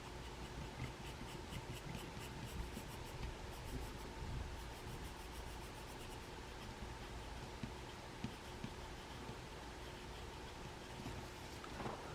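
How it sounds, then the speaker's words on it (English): A 3B graphite shading pencil darkening broad areas on paper during a dinosaur drawing, a steady, close, soft scratchy rubbing that continues throughout without talk. "I'll use my trusty 3B shading pencil for this part."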